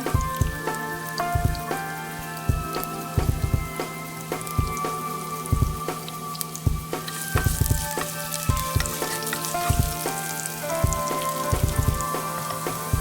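Small onions (shallots) frying in oil in a pan, a steady crackling sizzle with scattered sharp pops and spatters throughout, close and moderately loud, no talking.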